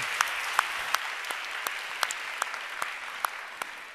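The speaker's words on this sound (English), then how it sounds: "Let's give them an applaud." Applause from an audience at a women-in-tech event, a steady patter of clapping with a few sharper individual claps standing out at regular intervals.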